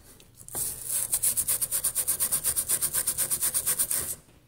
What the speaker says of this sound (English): sand down around it until it's nice and shiny, and you get all the corrosion off